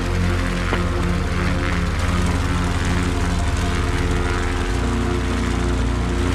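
A Cub Crafters propeller aircraft takes off from a runway, its engine a steady, loud drone with a rising pitch change partway through and no talking.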